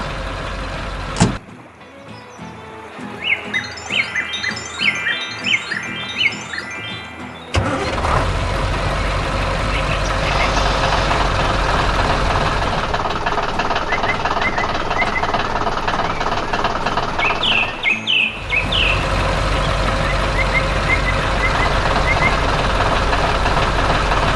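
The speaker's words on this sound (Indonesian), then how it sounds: "traktor yang sedang bekerja keras di kebun yang hijau" A heavy tractor engine cranks and starts, then runs with a loud, steady diesel rumble and knocking, continuing close by throughout in a green farm field, with birds chirping faintly early on.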